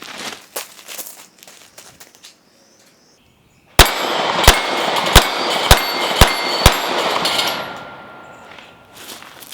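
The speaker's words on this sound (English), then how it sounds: "I'm gonna try to shoot it, obviously not through the viewfinder, do it a little bit faster." A Sig P365 pistol with a 12-round magazine firing a quick string of six or seven loud, sharp shots at steel targets outdoors, each crack trailed by a ringing metallic ping, after a quiet pause and some handling noise.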